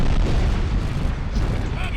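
A Tomahawk cruise missile explodes in the video game Conflict: Desert Storm, a dense, heavy rumbling boom that stays loud and churning for the full two seconds.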